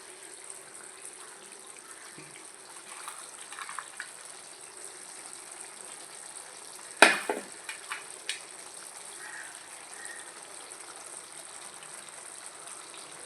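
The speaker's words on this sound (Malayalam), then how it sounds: "സവാള ആഡ് ചെയ്ത് കൊടുത്തിട്ടിട്ട് നമുക്ക് നല്ലപോലെ ഒന്ന് ഇളക്കി വയ്ക്കുക" Fried onions are stirred into a chicken curry sizzling in a pan. A steady, quiet hiss runs throughout, broken midway by a sharp clatter and a few scraping knocks.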